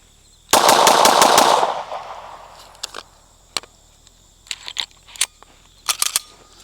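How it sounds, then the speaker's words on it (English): A burst of rapid pistol shots from a ported CZ P-10C fired as fast as possible at a range, a dense string of loud cracks followed by a few scattered single shots and clicks. "just as fast as I can possibly pull this trigger."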